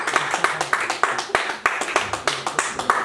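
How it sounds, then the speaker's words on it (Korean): An audience clapping at a school event, brisk rhythmic claps in a steady beat, close and lively, continuing for a few seconds. "박수 주세요."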